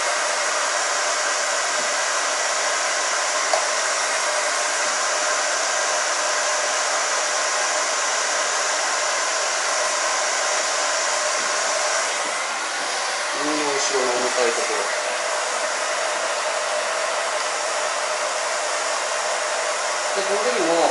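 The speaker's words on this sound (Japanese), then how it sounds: "乾かします。" A hair dryer blows steadily on a short haircut at a hairdressers' training session, a loud continuous whoosh throughout with faint brief rustles midway and no speech.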